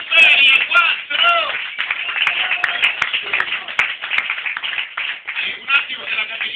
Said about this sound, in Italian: Un applauso a Alberto che fa 4 mesi in ferie, 4!